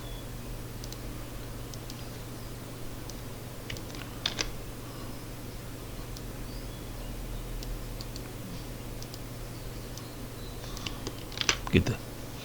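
Computer keyboard typing as coordinates are entered, faint scattered key clicks in small bursts over a low steady hum, with a quiet voice speaking.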